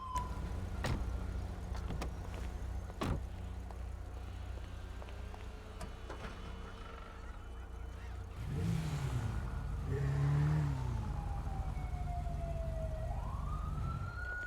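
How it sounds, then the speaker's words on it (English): A police car siren sounds inside a cop video game, a wailing tone that rises and falls through most of the stretch, swelling louder partway in before fading into a long sweep, with no talk over it. "Siren is on."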